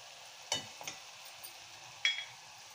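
Chili powder, turmeric and garam masala stirred with softened onion in a pan, a quiet low sizzle broken by a few scraping strokes of a spoon.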